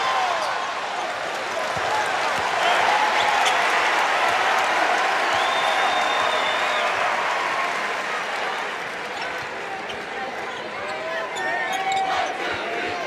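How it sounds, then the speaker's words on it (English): A college basketball arena crowd at a Miami–Clemson game roars in a continuous, loud, full-bodied swell, with a commentator talking over it and sneaker squeaks cutting through near the court. "The crowd as loud as it gets at the other end"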